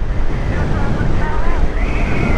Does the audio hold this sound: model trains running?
no